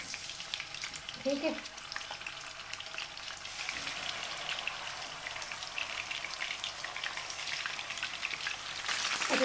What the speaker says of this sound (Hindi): तो चिकन डाल के इसको फ्राई करेंगे।